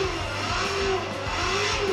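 A car engine revs hard during a clutch-kick drift, its tone rising and falling steadily in a loud, close, continuous drone with no talking.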